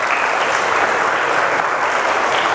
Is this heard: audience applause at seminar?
yes